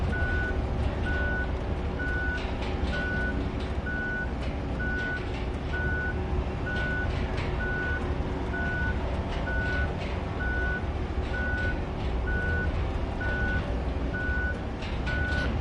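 A truck in the Roadcraft video game gives steady, evenly spaced reversing beeps over a constant loud engine rumble, repeating for the whole stretch without talk.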